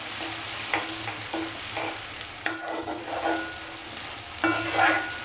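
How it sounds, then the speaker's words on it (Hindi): Tomato gravy is stirred into fried garlic and onion in a pan, a steady sizzle with repeated scraping strokes of the spoon, close and moderately loud with no talking. "अब इसके बाद में हम डाल रहे हैं टमाटर की ग्रेवी। अच्छे से मिला लेते हैं।"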